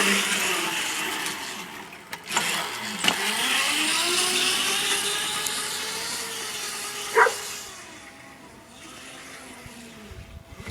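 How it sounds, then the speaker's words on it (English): A mini bike's small engine revs and drones outdoors, the pitch rising and falling as it passes at moderate distance, with a couple of sharp knocks partway through before the sound fades away near the end. "mini bike."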